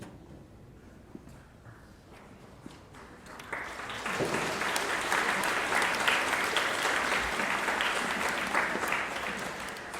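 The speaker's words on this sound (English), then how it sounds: "Thank you for the 3 people that clapped for me." Audience applause at a school graduation and middle school promotion ceremony, starting with a few scattered claps and swelling after a few seconds into steady, full clapping across a large room.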